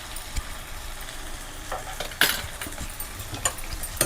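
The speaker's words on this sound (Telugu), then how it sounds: "వేసుకుని అడుగంటుకోకుండా ఇలాగా శుభ్రంగా ఒకసారి పైకి అడికి పైకి కలిపేసుకోండి బాగా" A spoon stirs tomato curry in a pan at home, mixing the ground spices in from the bottom, with soft scraping and faint sizzling throughout and a brief louder clink partway through.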